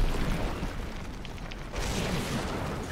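An explosion goes off in Heroes of the Storm, a loud, dense rumbling blast that holds steady throughout, with a second swell of booming noise partway through.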